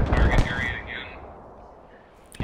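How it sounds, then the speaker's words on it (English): Mortar rounds landing in the Squad video game: a couple of heavy booming impacts at the start that fade into a rumbling tail, then another sharp blast at the very end, with brief voice underneath. "Mortars are landing."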